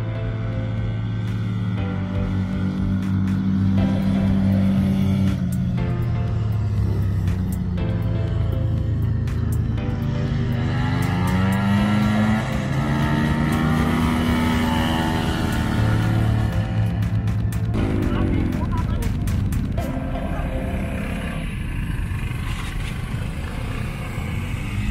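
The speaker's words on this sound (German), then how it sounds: "Da kommt ein Mutiger, treibt seine Schaltvespa hinauf." Geared Vespa scooter, a Quadrini 244 setup, climbing uphill at an alpine scooter event, its two-stroke engine rising and falling in pitch as it labours up the slope, loud and steady throughout, with no talk.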